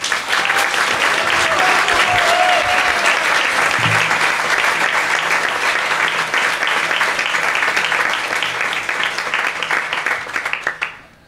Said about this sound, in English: So can we please welcome him with a very, very loud round of applause, please.